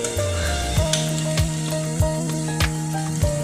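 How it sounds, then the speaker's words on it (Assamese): Ginger garlic paste fries in hot oil with onions for an egg curry, a close, steady sizzle broken by regular scraping knocks of a spoon stirring the pan about every half second. "ইয়াত আমি এতিয়া আদা নহৰু পেষ্টটো দি দিম।"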